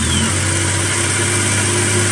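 A Yamaha Nytro XTX 144 snowmobile engine runs at a steady, close idle, its even, buzzing drone holding without pause for about two seconds.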